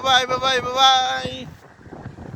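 Strong wind buffets the microphone outdoors at Britzer Garten in Berlin, making a rough, gusty rumble. A person talks over the first half, and the wind roars on alone afterward.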